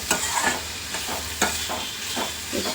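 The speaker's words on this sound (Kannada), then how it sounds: "ಎಣ್ಣೆಯಲ್ಲೇ ಒಂದು ಸ್ವಲ್ಪ ತರಕಾರಿ ಎಲ್ಲ ಬಾಡಿಸ್ಕೊಬೇಕು" Vegetables sauté in hot oil for shavige bath, a steady sizzle broken by repeated scraping stirs of a spatula against the pan, close and fairly loud with no voices.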